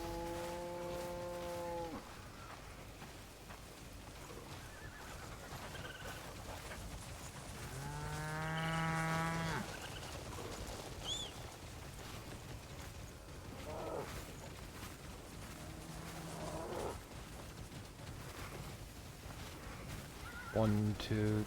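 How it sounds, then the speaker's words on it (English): Several cows mooing in the video game Crimson Desert, a few drawn-out harmonic calls spread across the scene with quieter game ambience between them and a sharper burst near the end. "There seems to be 9 cows."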